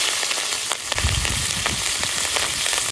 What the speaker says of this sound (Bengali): তেলের উপর দিয়ে দেবো জিরে, তার সাথে দিয়ে দেবো কাঁচা লঙ্কা চেরা।